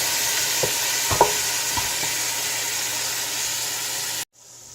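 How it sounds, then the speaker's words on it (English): Vegetables for chicken stock sizzle steadily in a pot as they brown and sweat, close by, with a few clanks of a utensil stirring before the sound cuts off abruptly. "You see we got a nice little sizzle going on."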